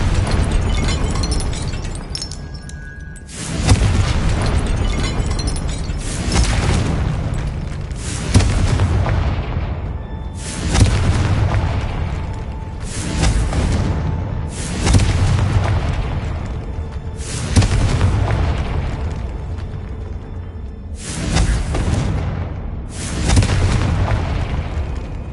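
Repeated Confringo fire spell blasts in the video game Hogwarts Legacy, a series of loud booming explosions every few seconds over a continuous rumbling battle din, with no talking.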